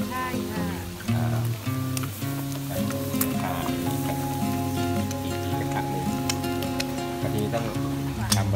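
Fried eggs sizzling in a pan at a Nakhon Phanom street-food stall, a steady crackle running under prominent background music and voices throughout.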